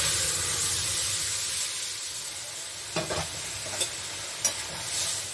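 Lentils tipped into a pan with ginger and frying, a steady sizzle and hiss with a few brief clatters of stirring and scraping toward the end, close and fairly loud.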